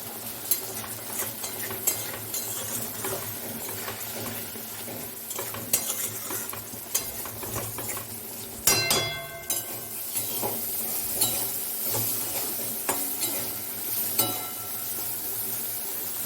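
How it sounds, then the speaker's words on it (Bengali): Bitter gourd fries in oil in a pan with a continuous sizzle under repeated scraping and stirring, plus occasional clinks of a utensil against the metal, close up and with no speech. "উচ্ছেটাকে ভেজে নিলাম, লাল লাল করে একটু ভাজবো উচ্ছেটাকে।"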